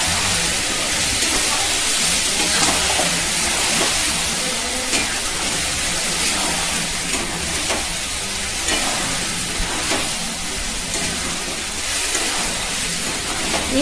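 Steady, loud sizzling as ground tomato paste goes into a hot pan for a Bengali jackfruit and prawn curry, a continuous frying hiss with faint stirring scrapes.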